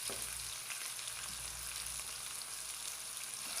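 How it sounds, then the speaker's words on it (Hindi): Finely chopped onions fry in cooking oil with shahi jeera over a medium flame for mutton keema pulao, a dense, continuous sizzle that stays even and close throughout. "मीडियम फ्लेम पे 3 से 4 मिनट तक फ्राई कर लेंगे प्याज को"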